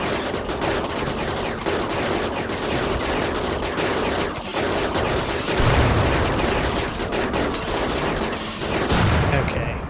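Rapid gunfire from a RimWorld colony fight with the RiftWorld mod, shooters firing point blank at a buffalo; dense, continuous bursts of shots fill the whole stretch at steady loudness with no break.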